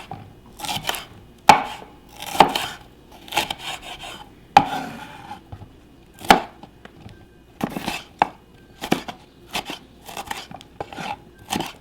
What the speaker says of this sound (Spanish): Ya que esté picado nuestras rajas